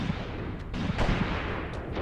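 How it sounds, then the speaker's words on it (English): Heavy gunfire in a World War II North African battle in a video game, a dense rumbling barrage of shots and booming blasts, loud and continuous with a few sharper cracks. "He is opening up the machine gun."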